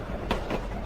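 Train running on rails with a steady rumble and faint periodic clacks, heard briefly and moderately loud with no talking.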